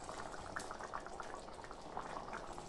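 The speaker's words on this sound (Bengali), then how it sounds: "এখন এটা ফুটতে থাকুক। ফুটে উঠেছে।" Chana paneer gravy boiling in a pot, a dense, continuous bubbling and gurgling up close, steady and fairly quiet throughout with no voices.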